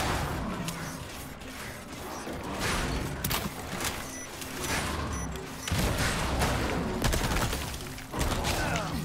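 Gunfire in the Resident Evil 4 Remake hedge maze: several loud shots and crashing impacts ring out over dense game noise, with no talk.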